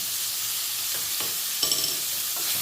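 Onions with a pinch of salt fry in oil in a pan for masala paneer curry, a steady close sizzle with a few soft stirring scrapes and no voices.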